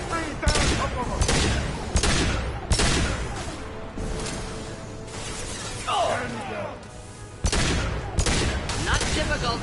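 Repeated bursts of gunfire crack out loudly during Mass Effect 2 combat as a loosened fuel tank is shot, with metallic crashing and clanking between volleys while people speak in the game.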